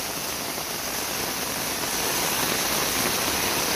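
Heavy rain and floodwater in Nepal make a dense, continuous hiss and roar, loud and unbroken, with no voices.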